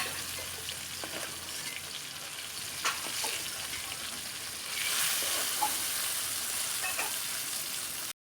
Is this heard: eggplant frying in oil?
yes